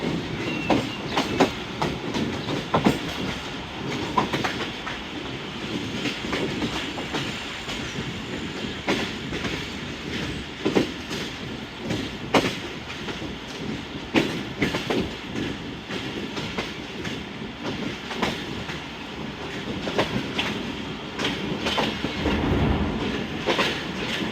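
Rehman Baba Express passenger train running from Peshawar Cantt toward Attock City, heard from inside as continuous rumbling with rhythmic clickety-clack of wheels over rail joints and occasional louder knocks and rattles, no talking.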